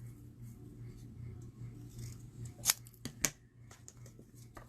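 Scissors trim paper for a Stampin' Up! card, giving a few distinct crisp snips close by against a quiet background.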